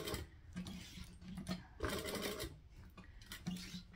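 A sewing machine stitches near a zipper on a piping project, running in short quiet mechanical bursts with pauses between runs.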